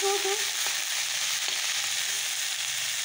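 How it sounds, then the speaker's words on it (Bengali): Leafy greens fry in a pan with a steady, close sizzle, a few brief utensil clicks and taps over the crackle, no talking. "তো চলো শাকটাকে ভেজে নিই।"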